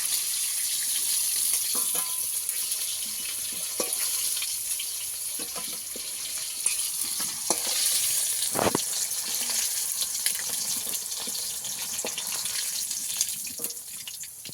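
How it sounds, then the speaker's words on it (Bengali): Kuche eel pieces sizzle as they fry in a pan, a continuous crackling hiss broken by occasional clinks and stirring scrapes, heard close up with no talking. "একইভাবে আমি এই মাছগুলোকেও ভেজে নেব।"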